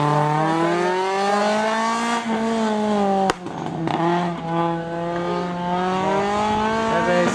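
A race car on the Curinghese slalom course, 2021, revs hard and pulls away, its engine note climbing through sustained harmonics with a sharp crack and brief dip mid-run before it picks up again.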